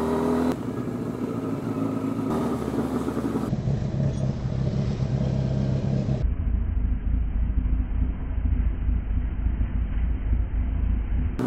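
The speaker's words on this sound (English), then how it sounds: "I love cobbled streets on a bike." A motorbike rides over the cobbled streets of London, its engine giving a loud, steady rumble with the constant broadband roar of the ride and the road surface running unbroken throughout.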